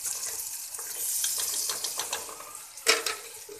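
Three medium-sized tomatoes frying in a pan with ginger and garlic for chicken methi, a soft sizzle with scraping stir strokes and a sharper clatter near the end.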